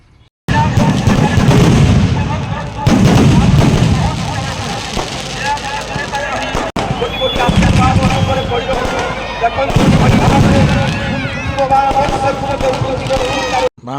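Firecrackers burst in dense, booming volleys as a Ravana effigy burns at a Ram Navami celebration in Redhakhol, with loud, crackling blasts for nearly the whole stretch and crowd noise and voices mixed underneath.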